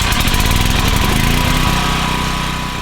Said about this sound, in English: Then start your engine.